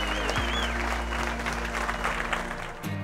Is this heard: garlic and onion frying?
no